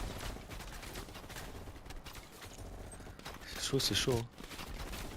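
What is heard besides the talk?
gunfire in video game Call of Duty Black Ops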